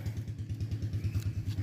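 A motorcycle being ridden, its engine thumping out a quick, regular low pulse with light clatter, close by and steady from start to finish.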